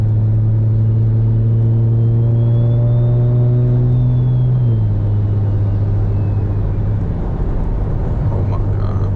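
A BMW 335i with a big turbo and a 3.5-inch exhaust pulls hard from inside the cabin, its engine drone holding a steady pitch and then dropping as a whining turbo spool rises and falls above it; loud and continuous.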